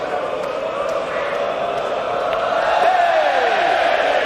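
A pool-hall crowd at the 2023 Mosconi Cup roars and cheers steadily throughout, swelling slightly toward the end, while a commentator talks over the noise.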